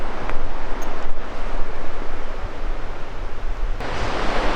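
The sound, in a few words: Helmet Creek flowing out of the mountains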